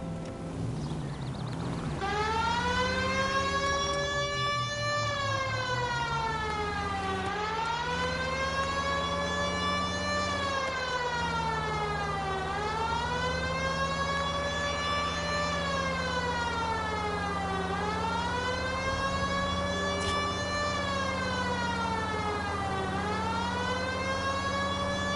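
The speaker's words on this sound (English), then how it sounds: "I'm turning on the siren" Police car siren in the video game L.A. Noire, loud and continuous, a wailing tone that sweeps up and down in slow, regular cycles over a steady engine rumble, with nothing else over it.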